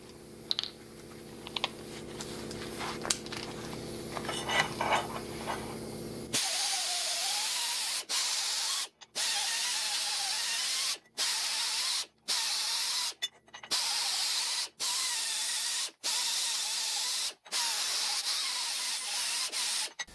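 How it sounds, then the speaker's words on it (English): A Scotch-Brite abrasive pad on a power tool scrubs metal in a welding shop, a harsh hiss in repeated bursts of a second or two separated by short pauses, after a quieter stretch of handling noise. "now we're going to switch to the Scotch-Brite real quick"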